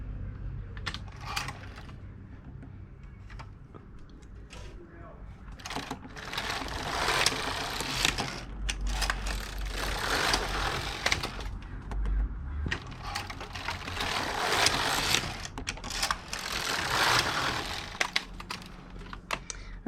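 A Passap E6000 knitting machine carriage knits rows on a sock heel, making a rhythmic mechanical rasping and clacking that swells with each pass across the needle bed, steady and close without talk.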